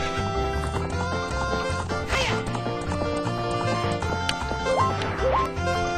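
A horse's hooves clip-clop at a gallop in The Legend of Zelda: Ocarina of Time, running rhythmically under loud, continuous game music.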